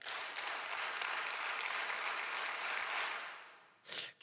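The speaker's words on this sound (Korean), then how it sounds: "자, 박수 10번 시작." A church congregation at a Friday worship service bursts into dense, continuous clapping for nearly four seconds. The clapping cuts off abruptly, followed by a brief final flurry.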